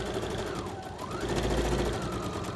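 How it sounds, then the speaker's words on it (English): Sewing machine back stitching the casing of a fitted fabric mask, a steady close whirring hum of the motor and needle running continuously. "So we're just going to back stitch this here"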